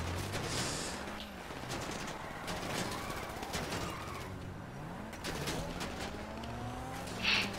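Gunfire in GTA V Online during a car chase, with bursts of shots over a running engine and passing-car noise, loud and close throughout, with a voice speaking briefly.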